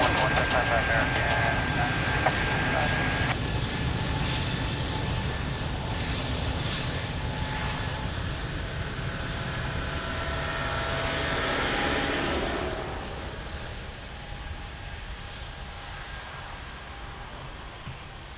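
Airliner engines roar loudly and steadily on the runway at Lisbon Airport, with a broad jet rumble that swells and then eases off toward the end, under radio talk.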